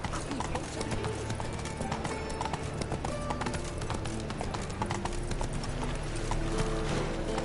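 Roach, Geralt's horse in The Witcher 3 on PS5, trots with loud, steady clip-clop hoofbeats, close and continuous beneath dense game sound and clinking tack.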